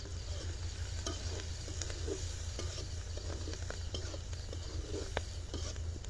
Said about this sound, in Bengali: রাঁধুনি মামা রান্না করতেছে